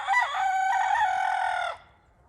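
A rooster crows once, loud and close, a single drawn-out call lasting nearly two seconds as it calls hens out of the fence, then cuts off into near silence.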